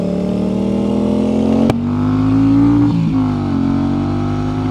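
A Fearago motorbike engine drones loudly and close, its pitch climbing slightly as it revs and then easing back, with a steady, throaty tone throughout.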